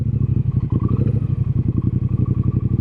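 A custom chrome Triumph Speedmaster motorcycle engine rumbles close by at low revs while the bike is turned around, with deep, rapid, even firing pulses and light mechanical clatter.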